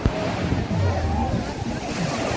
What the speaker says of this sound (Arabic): ادي بقى البحر